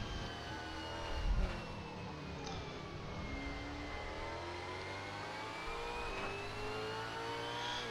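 A Supercars race car engine drones at Pukekohe Park Raceway during qualifying, its pitch sliding through gear changes as it passes at a steady medium distance.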